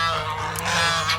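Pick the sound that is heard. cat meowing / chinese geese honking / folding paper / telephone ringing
chinese geese honking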